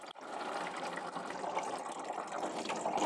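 Engine coolant pours steadily from the open drain of a Toyota hybrid, a continuous splashing, trickling stream, close by and fairly loud, with no voices.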